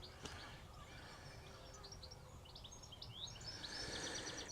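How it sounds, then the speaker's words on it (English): Birds sing faintly on an allotment, with scattered thin chirps and tweets drifting over a low outdoor rumble, growing a little busier toward the end. "Yeah, the birds and everything."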